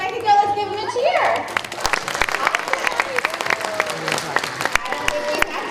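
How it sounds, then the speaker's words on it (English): A school assembly audience of pre-K children claps and cheers, with scattered sharp handclaps and young voices after an adult speaks at the start. "let's give them a cheer"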